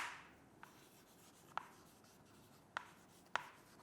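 Chalk or marker on a board during a maths lesson in a quiet classroom, with a few short, sharp taps and strokes spaced about a second apart over a faint background hiss.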